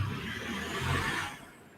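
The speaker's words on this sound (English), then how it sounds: "That's the tow truck." A tow truck passing on a residential street, a broad engine and road rumble that swells and then fades away over about two seconds, heard from indoors at a moderate distance.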